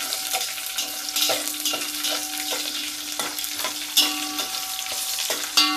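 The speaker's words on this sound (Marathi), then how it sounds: "मिरची चांगली तळू द्या।" Green chilies, cumin and curry leaves fry in hot oil in a kadhai with a steady close sizzle, broken by several sharp stirring clicks and a faint steady tone underneath; no one speaks.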